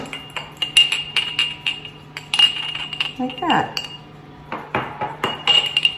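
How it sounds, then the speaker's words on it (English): Repeated light clinks and taps of glass as a cheesecake crust is gently tapped down in a mason jar, irregular and close, with a brief rustle in the middle and a short spoken phrase. "Sorry about that glass tingly noise."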